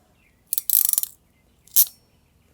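Ratchet crimping tool squeezing a butt connector onto wire during a marine fuel pump replacement: a close burst of rapid clicking ratchet pulls, then a second short click a moment later, with no talking.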